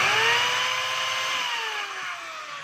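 DeWalt DWD022 3/8-inch hammer drill with a damaged cord running steadily at high speed, a loud continuous whine with a slowly falling pitch, close and alone.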